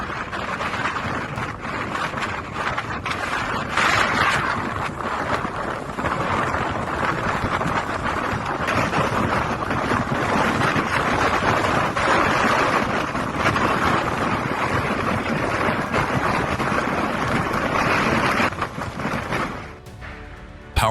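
Strong wind in a blinding snowstorm roars and buffets the microphone in a steady, loud rush, with gusts swelling and easing over about twenty seconds.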